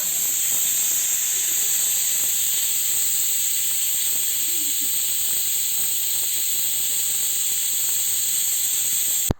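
A pressure cooker cooking tapioca (kappa) on a stove gives off a loud, steady, unbroken hiss of escaping steam that holds at the same level from start to finish.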